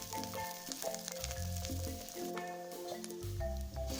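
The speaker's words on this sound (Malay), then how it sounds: "Kita tumis bahan-bahan ni sehingga naik wangi." Diced onion and curry leaves sauté in a pan with a soft, crackling sizzle and faint spatters, quiet and steady throughout.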